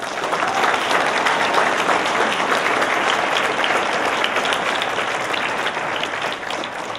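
A big round of audience applause at a senior high school graduation ceremony, a thick, sustained roar of many hands clapping that holds steady and then eases slightly near the end.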